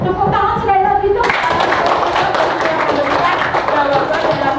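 Classroom of students clapping for a student group after a discussion, a brief burst of close, brisk hand claps that begins after a short stretch of voices and carries on steadily, with some chatter mixed underneath.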